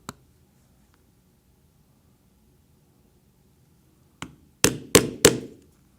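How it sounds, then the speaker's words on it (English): Thonging chisel struck with a mallet to punch stitching holes in a leather pocketknife sheath: one sharp knock after a quiet pause, then three loud, close, evenly spaced thwacks, alone with no talk. "then we will take our thonging chisel and do as we did before"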